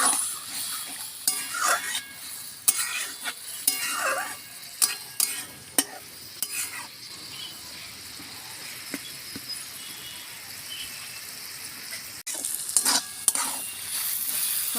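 Snake gourd curry simmering and sizzling in a pan after a little water goes in, with intermittent spoon stirs and scrapes over a soft bubbling hiss; close, moderately quiet and free of talk.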